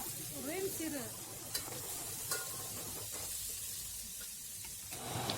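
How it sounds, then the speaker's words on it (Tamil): Mutton fries in a pan with turmeric paste stirred through it, giving a steady soft sizzle broken by scraping strokes of a spoon, and a voice briefly speaks over the start. "இப்போ நாம் நல்லா கலந்து விட்டுக்கலாம்"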